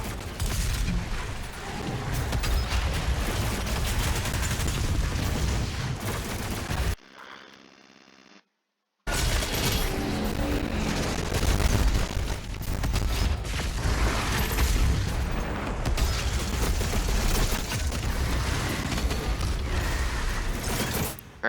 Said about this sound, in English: I used the lock-on burst for the rocket launcher